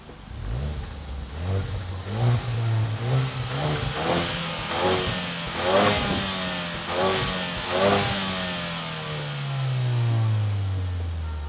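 A Ford Focus ST engine revs repeatedly through two center exhaust tips with sharp exhaust bursts, rising and falling in pitch, loud and close, then settles into a deep rumble.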